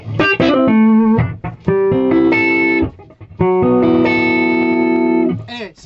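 A Les Paul electric guitar plays loud through a Winfield Thomas amp, punchy phrases and sustained bent notes with a slightly distorted tone, brief gaps between lines.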